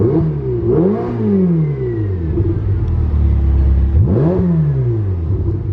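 A Ferrari with a modified exhaust sits idling with a deep, loud rumble, its engine blipped sharply twice, each rev sweeping up in pitch and dropping back, one near the start and another near the end.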